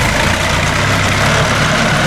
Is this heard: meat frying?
no